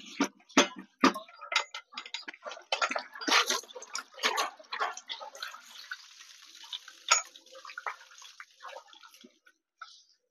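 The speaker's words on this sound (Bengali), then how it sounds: "এবার এই পাশ দিয়ে জলের প্রেশার" Pressurised water sprays through a 14-year-old Euro 4 bike silencer to flush out carbon, with a run of sharp splattering ticks and knocks giving way to a steady hiss of spray that fades out near the end.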